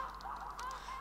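A snow goose in the video game theHunter Classic gives faint, distant honks over a steady low background hum, with no talking.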